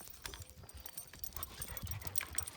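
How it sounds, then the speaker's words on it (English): A dog outdoors chasing a rabbit, with faint scuffling, panting and movement at a distance over a low background, no talking. "There's my dog trying to get the little rabbit again"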